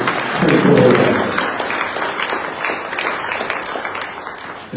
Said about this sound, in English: The next thing on my notes was to ask you guys for a round of applause, but hey, you got the cue